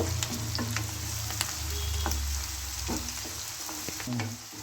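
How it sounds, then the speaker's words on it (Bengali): Onions fry in hot oil tempered with nigella seeds, a continuous crackling sizzle close by, with repeated spatula scrapes and clinks against the pan. "দিয়ে দিলাম পেঁয়াজটা একটু ভালো করে ভেজে নেব"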